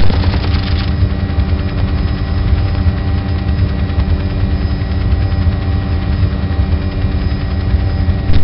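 Steady helicopter gunfire from an Apache gunship in the Team Apache Colombian campaign, a dense continuous drone of rotor hum and rapid cannon rounds that holds loud and unbroken throughout.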